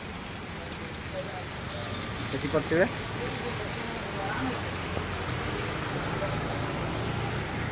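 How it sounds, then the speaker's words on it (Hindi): Steady dense hiss of heavy rain pouring down, with a brief spoken word partway through. "एत जोर वर्षा हो भाई"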